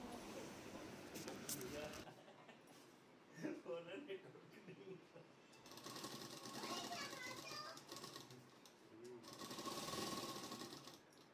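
An electric sewing machine stitching a salwar, whirring in a few sustained runs with brief stops, heard close but at low level with children's voices and talk in the background.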